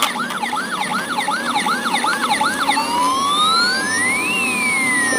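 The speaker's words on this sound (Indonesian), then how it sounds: "Wow, ini ada mobil ambulan teman-teman ini." A toy ambulance plays a loud, close electronic siren, first rapid repeated wails, then slower rising and falling sweeps, over a faint background hum.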